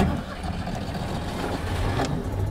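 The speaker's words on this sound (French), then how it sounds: "Ce son, c'est celui de la 2 chevaux de Stéphane." A Citroën 2CV drives along as a volunteer taxi, its engine a low steady droning hum with road noise, moderately quiet and heard from inside or nearby.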